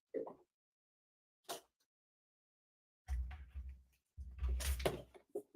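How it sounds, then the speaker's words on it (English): A house window slid shut, heard as a few scattered knocks and scrapes followed by longer rattling, sliding bursts, close and moderately loud with gaps of quiet between. "let me shut my window"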